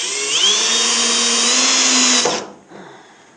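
A DeWalt router cutting door hinge recesses in wood: a loud, steady motor whine rises in pitch at start-up, runs for about two seconds, then cuts off and winds down to a faint hum.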